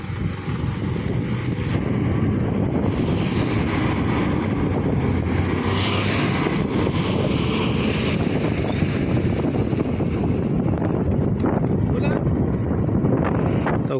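Steady outdoor wind buffets the microphone in hilly Meghalaya, a constant loud rush with no gaps, while a voice speaks over it throughout.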